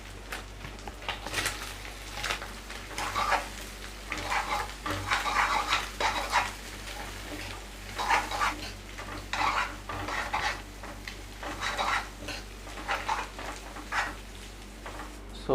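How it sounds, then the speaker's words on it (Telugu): Yellow capsicum pieces tossed into a pan for egg noodles and stirred, producing steady rhythmic scraping and clatter of a spoon against the pan over a soft sizzle, moderately close, with no voices. "సో ఎల్లో క్యాప్సికమ్ వేస్తున్నాను."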